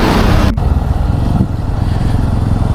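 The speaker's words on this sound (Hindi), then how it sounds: "मैं जाऊँगा अपनी बाइक पे" A motorcycle engine runs loud and close as a ride begins, a steady throaty rumble with a brief dip partway through, heard without talk.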